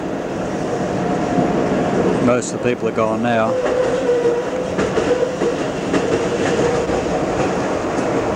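Berlin tram, 1991–1992, rolling steadily along its rails with a continuous rumbling drone and some wheel noise, while a person talks briefly over it partway through.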